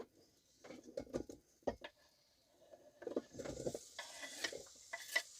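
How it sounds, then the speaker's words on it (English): Food sizzles in melted butter in a rice cooker being used to sauté ingredients for Cuban chili, with bursts of crackling and stirring scrapes coming in uneven clusters, fairly close and with no talking. "And you can hear it sizzling there."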